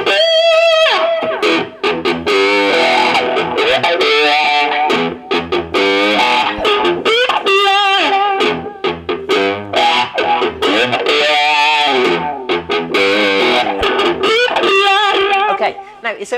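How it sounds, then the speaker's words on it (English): An electric guitar plays a simple blues riff through a wah-wah pedal, an echo pedal and amp distortion, with bending, sustained notes and sweeping filtered tones, loud and close. "I'm using a wah-wah pedal and an echo pedal"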